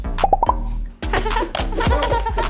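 An egg cracked for homemade waffle batter: a few quick sharp taps against a hard edge, a brief pause, then a denser crackling break and wet plopping, close and fairly loud.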